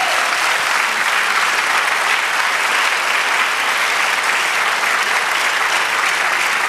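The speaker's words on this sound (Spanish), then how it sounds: "denle un aplauso al Señor" A church congregation claps loudly and steadily throughout, a dense wash of applause from many hands with no breaks or speech.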